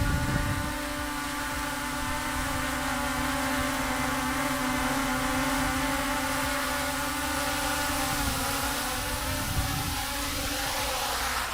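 An Autel Evo Nano+ drone hovering close by, giving a continuous loud, even propeller buzz and whine with steady tones throughout, no talking.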